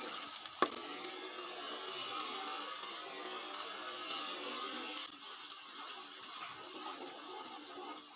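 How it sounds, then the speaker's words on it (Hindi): Ginger garlic paste frying with onions in a pot for mixed dal, a soft steady sizzle and hiss with a single sharp tap near the start, close but fairly quiet and without speech. "इस पेस्ट को आपने 1 मिनट के लिए इसके अंदर लाजमी पकाना होता है।"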